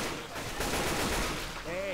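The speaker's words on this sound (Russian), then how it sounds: "Эй, ты стреляешь в меня!" Dense rapid gunfire from a shooter in Left 4 Dead 2, a steady rattling burst that fills the whole stretch at close range, with a brief tonal game sound near the end.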